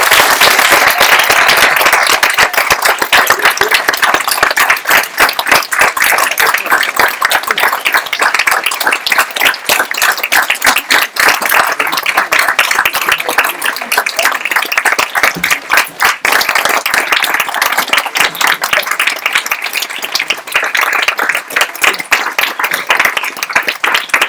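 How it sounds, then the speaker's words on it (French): An audience at an improv comedy show applauds loudly and steadily, a dense rapid patter of many hands clapping that keeps going without pause. "merci beaucoup pour vos applaudissements chaleureux"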